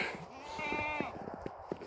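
Goats bleat close by in short overlapping calls in the snow, with rustling and light knocks in the background.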